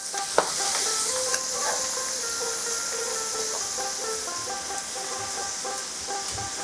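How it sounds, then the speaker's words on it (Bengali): Shredded potatoes deep frying in hot oil over a medium-high flame, a steady bright sizzle with occasional clinks of stirring, close and continuous with no talk. "এবার অল্প অল্প করে আমি আলু ছেড়ে দেব।"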